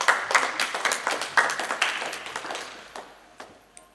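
An audience claps in a steady patter of hands that gradually thins and fades out, with no talking over it.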